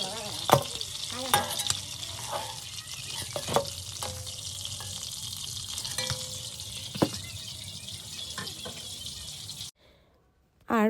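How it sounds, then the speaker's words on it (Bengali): Prawns frying in hot oil in a home kitchen, a steady close sizzle with occasional stirring clinks and scrapes, cutting to near silence near the end. "আর বাকি যে মাছগুলো ছিল সেইগুলো এই একই রকমভাবে ভেজে নিতে হবে।"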